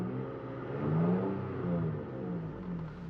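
A car with a Pedal Monster throttle controller switched to sport mode accelerates hard, its engine revving in a steady, loud mid-pitched roar that swells and eases slightly across a few seconds, with no talk over it.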